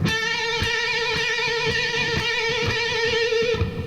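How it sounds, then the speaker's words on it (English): A single electric guitar note is bent up and back down repeatedly in a flutter bend, a sustained wavering tone pulsing rapidly and evenly, near and alone. "a flutter bend sounds like this"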